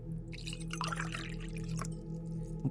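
Water is poured into a glass in a kitchen, with splashing and trickling over a steady low electrical hum. The sound is fairly quiet and close, and a small bump comes at the end.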